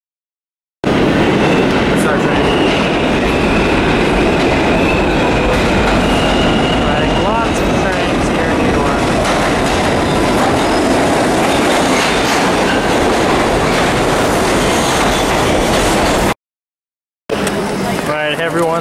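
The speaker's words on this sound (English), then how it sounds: "This train's in 3 minutes." A New York subway train runs loud and close on its rails with steady clickety-clack and rumble, wheels squealing at times, before cutting out briefly near the end; voices are heard over it.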